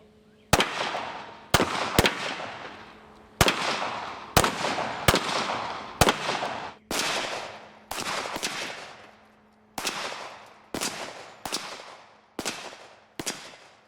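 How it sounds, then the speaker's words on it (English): Rapid handgun shots fired outdoors at a propane tank, about fifteen sharp cracks in an uneven cluster, each one loud and close and followed by a short echoing decay, with no talking. "But what happens if you get multiple shots all at the same time?"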